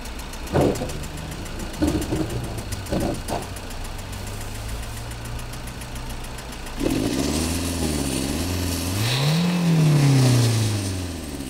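A diesel car engine undergoing injector repair idles with a few sharp knocks, then revs up in rising and falling surges, loud and close, with a brief voice early on.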